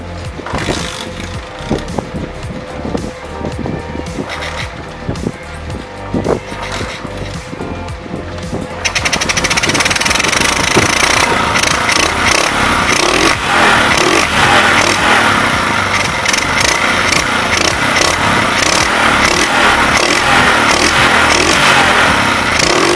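A Modenas Kriss 1 motorcycle, just repaired after block cover and starter cover problems, idles roughly before its engine catches and revs loudly, holding a steady, close, dense roar for the rest of the time.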